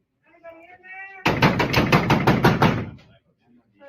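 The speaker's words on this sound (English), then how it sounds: "We have a couple people in here with us, and they just bang on the doors." Several people bang on doors in a burst of rapid, loud, heavy knocks lasting a couple of seconds, with voices talking before and after.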